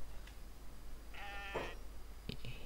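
Goats in the Kenshi video game give one clear wavering bleat, with a shorter bleat after it, over a low steady background hum, near and fairly loud, with no talk.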